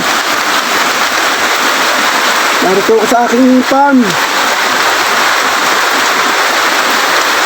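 Heavy rain pours steadily on a farm planted with taro, cassava and bananas, a dense continuous hiss throughout, while someone speaks briefly over it partway through.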